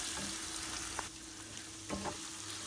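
Small pieces of washed fish and green chilies fry in spiced oil with a soft, continuous sizzle and a few light stirring knocks, fairly quiet and steady.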